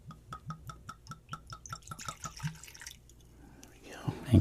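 A fruity-smelling drink is poured from a bottle into a glass, making a quick run of evenly spaced glugs that rise slightly in pitch, then fading into soft handling noise and a brief closing clink.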